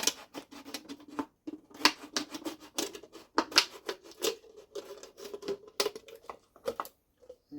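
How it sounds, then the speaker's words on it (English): Scissors snipping through a stiff plastic soda bottle to make a crawfish trap, in quick irregular bursts of crisp clicks and crunches, close up, with short pauses between cuts. "And it'll come through with the scissors and cut it."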